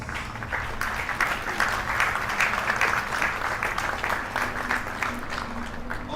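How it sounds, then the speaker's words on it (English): Steady round of applause for the referees after a Leinster Senior League final, a crowd clapping continuously at moderate level for about six seconds, with faint voices mixed underneath. "just a quick round of applause for refs"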